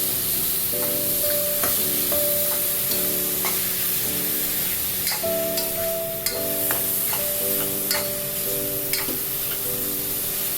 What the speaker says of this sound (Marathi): कांदा चांगला लाल होईपर्यंत त्याला परतून घ्यायचं